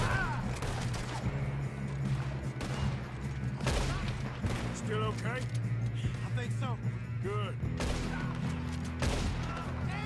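Gunfire in Red Dead Redemption 2 comes as sharp bursts of shots, some in quick volleys, over engine-like rumble and game noise, with voices talking in between.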